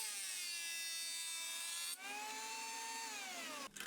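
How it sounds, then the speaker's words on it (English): A jointer runs steadily at close range with a high-pitched whine while squaring pine coffee table legs, with two short dips in the tone, near the middle and near the end, where the cut pauses. "now I'm squaring up my joiner to square up my coffee table legs"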